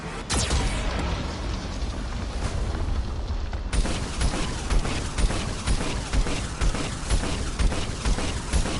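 Geth cannon blasts in Mass Effect 2 land as a dense run of booming explosions and rumbling mechanical bursts, loud and continuous, with a sharp jump in intensity partway through.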